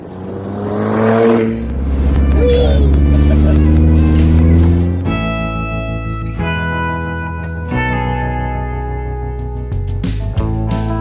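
A repaired engine runs and revs loudly up close, rising through a strained whine before settling into a steady idle with a few brief throttle changes.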